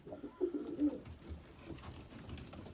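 Pigeons coo softly nearby in a loft, a few low rolling coos in the first second followed by quieter murmuring and faint rustling.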